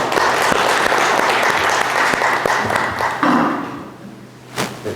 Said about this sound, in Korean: 한 분 한 분 소개 드릴 때마다 큰 박수 부탁드립니다